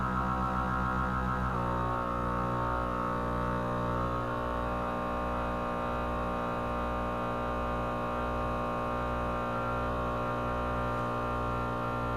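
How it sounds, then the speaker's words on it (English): A vacuum sealer pump draws air from a canning jar filled with sugar, giving a steady, close motor drone that shifts pitch slightly early on and then holds evenly to the end, with no talking. "hit the vacuum"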